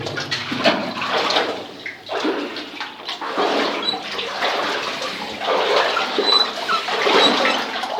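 Water gushes and splashes in uneven surges, echoing slightly inside an abandoned mine tunnel near Sandon, with brief lulls between bursts of flow.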